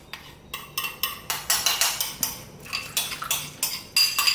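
Utensils clink and scrape against a bowl as a noodle dish is lifted out of a yellow bowl, a series of close, sharp rhythmic clatters roughly every half second.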